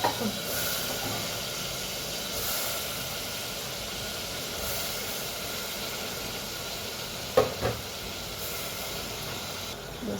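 Onions and potatoes frying in a pan give off a steady, loud hiss and sizzle throughout, with a couple of sharp knocks from stirring near the end.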